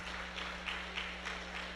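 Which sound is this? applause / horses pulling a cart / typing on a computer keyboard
applause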